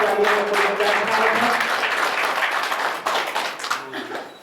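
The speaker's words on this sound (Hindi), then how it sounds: "तालियों से स्वागत कीजिएगा।" An audience claps in welcome at a Brahma Kumaris gathering, dense and loud at first, then thinning and fading toward the end, with a faint voice underneath at the start.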